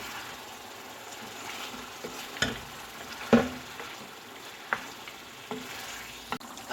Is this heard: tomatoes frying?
yes